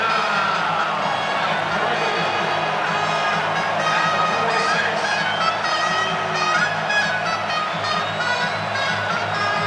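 Loud, sustained roar of a college football stadium crowd cheering at a Georgia Bulldogs at Missouri Tigers game on a third down, with a dense wall of shouts and whoops that stays steady throughout.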